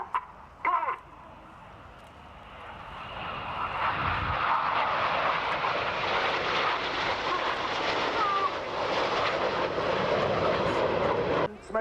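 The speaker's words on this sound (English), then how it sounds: "The inside pilots perform tight match barrel rolls to the outside of the formation as they fly the rollbacks." Red Arrows jets flying barrel rolls at an air show build to a loud, sustained roaring whoosh as they pass overhead, rising from a distant rumble and holding steady before fading.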